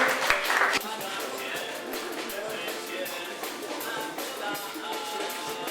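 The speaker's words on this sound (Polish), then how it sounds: "Wielkie brawa dla tych, którzy właśnie otrzymali nagrody." An audience at a school mathematics contest in Mielec applauds prize winners, a steady patter of many hands clapping at moderate distance, briefly louder at the start where a voice is also heard.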